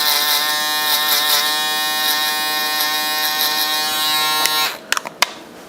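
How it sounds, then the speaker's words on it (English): An electric foil shaver running during a taper haircut on curly hair, a loud, steady, close buzz that holds for several seconds, then cuts off, leaving a few sharp clicks and handling noises. "go in with the foil shaver, and then follow a procedure from there"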